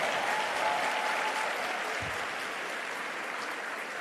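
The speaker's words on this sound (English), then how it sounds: "You have to applaud them with a lot of lust" An audience at a teachers' engagement session claps steadily, a dense, even wash of applause that holds at the same level throughout with no voices standing out.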